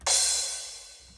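A single crash cymbal sample from a trance production, one bright, loud hit that shimmers and decays smoothly over about a second before cutting off, on its own.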